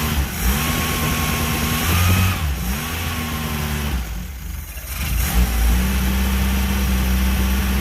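A small engine runs with the choke stuck on and struggles to idle, surging and revving unevenly, dipping low midway before picking back up, loud and close with no talk.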